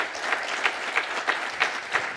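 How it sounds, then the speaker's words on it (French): An audience applauds after an introductory conference talk on no-code tools, a steady wash of clapping at moderate loudness with a few sharper claps standing out. "on peut déjà l'applaudir pour cette"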